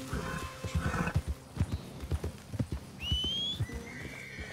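A horse in Red Dead Redemption 2 clip-clopping on hooves with snorts, then a rising whistle and a neigh, close and fairly loud over game ambience.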